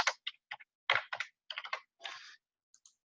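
Short bursts of computer keyboard typing, quiet and close, as an email subject line is entered; uneven clusters of key clicks with brief pauses, no voices.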